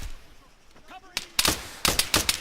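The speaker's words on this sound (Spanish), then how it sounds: "Y de pronto tenemos disparos." A quick burst of gunfire in the game Arma 3, several sharp cracking shots in rapid succession after a quiet moment.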